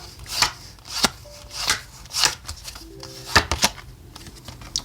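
Oracle cards are shuffled and drawn during a tarot reading, heard as a string of short, soft rubbing and riffling bursts spaced irregularly and close by, with quiet gaps between them.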